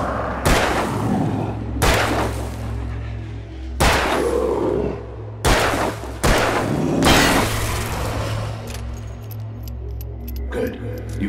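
Gunshots in the video game Alan Wake, several loud booming shots at irregular intervals, each with a ringing tail, over a steady low game ambience and brief voiced speech.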